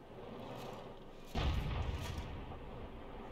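Artillery shell fired and striking a tank in World of Tanks, a single heavy boom that jumps out of a low rumbling background and then lingers as a dull roar.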